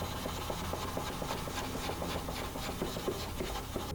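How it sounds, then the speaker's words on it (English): A sharpening stone is rubbed back and forth against a diamond plate to flatten it, giving a steady, close gritty rasping with an even stroke rhythm and no talking. "the first thing I'm going to do is flatten the stone here with my diamond plate"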